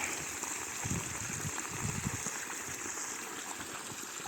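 Water from the two-inch pipe of a solar water pump, on an 80-foot system in Anjur, Krishnagiri district, gushing in a steady, faint stream with no talking over it.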